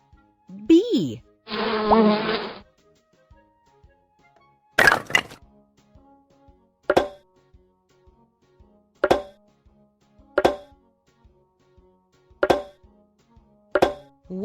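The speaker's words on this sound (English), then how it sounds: "Bee." A bee gives one short, buzzing burst near the start, followed by a spaced series of sharp, separate clicks or taps in otherwise quiet surroundings.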